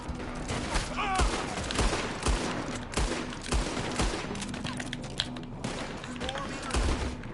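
Gunfire in Red Dead Redemption 2, with rapid overlapping shots cracking in bursts throughout, some near and loud, others further off, mixed with horse and action game noise.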